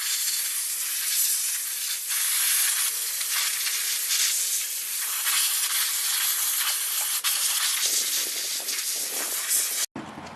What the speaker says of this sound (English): I'm going to use an air hose to speed that up